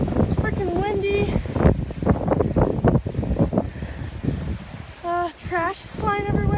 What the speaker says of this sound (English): It is like super windy outside.